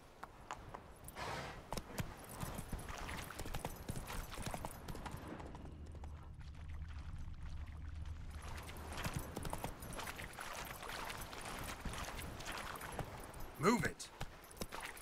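Horse hooves clip-clop in a steady trot through The Witcher 3: Wild Hunt, Hearts of Stone, a rhythmic run of knocks under ongoing game audio, with a person talking over parts of it.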